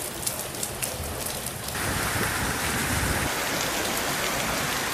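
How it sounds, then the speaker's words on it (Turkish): Hazelnut-sized hail pours down during a storm in Mersin, Turkey, a dense, steady clatter of pelting stones that thickens and grows louder after a couple of seconds, with no voices. "Kente fındık büyüklüğünde dolu yağdı."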